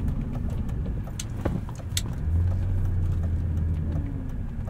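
Inside a 1999 BMW E36 M3 with an aftermarket clutch, a low, steady engine hum drones quietly, with a deeper tone settling in partway through and a few faint clicks.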